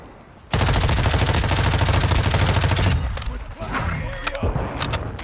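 Submachine gun fire in a first-person video game, a loud sustained rapid burst of about two and a half seconds, followed by scattered shots and game noise with a voice under it.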